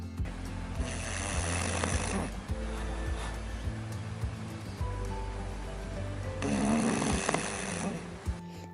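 A dog with brachycephalic syndrome and an overly long soft palate snores loudly and close up, two long, harsh, rasping breaths a few seconds apart, separated by quieter breathing.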